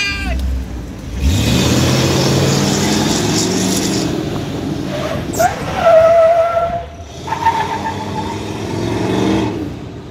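A car with cambered suspension set up for drifting slides through a drift, its engine revving hard while the tires squeal and skid loudly nearby in several drawn-out bursts.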